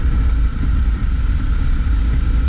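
A 2005 Suzuki DL 650 V-Strom motorcycle cruising at 80 km/h in sixth gear, giving a steady low engine drone with slight roughness, heard continuously and alone.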